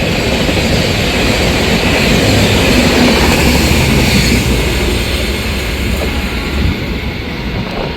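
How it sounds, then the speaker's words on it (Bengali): The Howrah–Asansol Agnibina Express passes close by with a loud, continuous roar and rumble of wheels on track, steady throughout and alone without voices. "হাওড়া আসানসোল অগ্নিবীণা এক্সপ্রেস"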